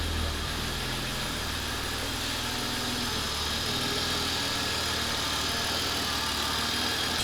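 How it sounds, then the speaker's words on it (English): An old BMW car engine idles continuously up close, its low rumble rising and dipping slightly as the unstable idle hunts and the revs waver unevenly. "So as you can see, it is searching for the idle a little bit."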